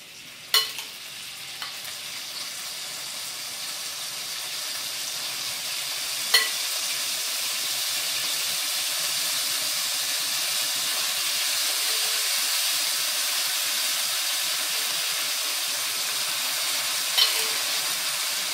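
Shrimp frying in butter in a hot pan give a steady, bright sizzle and hiss that holds for the whole stretch, with a few sharp clicks of stirring or utensils against the pan.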